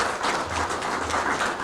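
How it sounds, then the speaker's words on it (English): Audience applause fills the hall at a fire department installation and awards ceremony, a dense continuous patter of many hands clapping, moderately loud and steady throughout. "Give yourself a round of applause."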